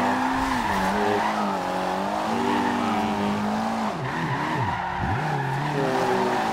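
In Forza Horizon 2, a Mitsubishi Lancer Evo 6 with a full engine upgrade drifts through Nice, France. Its tyres squeal in long, loud, wavering skids over a constant, close engine note.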